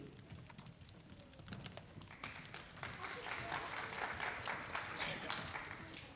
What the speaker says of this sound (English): give our first graders another round of applause